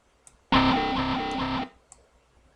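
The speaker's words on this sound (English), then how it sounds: "first I'm going to put a small reverb on it" A wobbly bass synth patch from Native Instruments Massive with a small reverb plays one sustained, distorted note for about a second, pulsing rhythmically, then cuts off into near silence with faint clicks.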